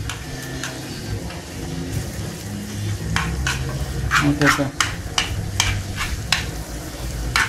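Food fries in a pan as the base for a homemade soup, a steady sizzle broken by repeated clicks and scrapes of stirring, with a person talking briefly.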